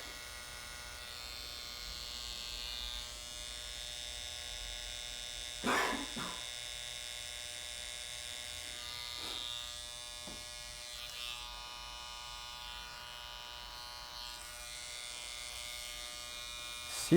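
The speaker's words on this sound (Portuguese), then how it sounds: "já deixo limpo com a minha máquina de acabamento" An electric hair clipper used as a barber's finishing trimmer buzzes steadily and close for the whole stretch, tidying the hair under the beard-fade line on a curly mohawk fade, with a few brief louder bumps around it.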